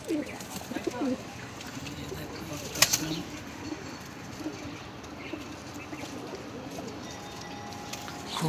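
Pigeons in a cage at a bird market setting coo softly and intermittently, with occasional wing flaps, under a continuous bed of nearby human talk and crowd noise.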